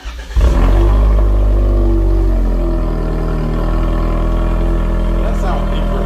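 A 2021 Toyota Camry fitted with a new exhaust fires up by remote start, catching with a quick stutter and then swelling into a loud, deep, steady idle rumble close by, with people talking over it.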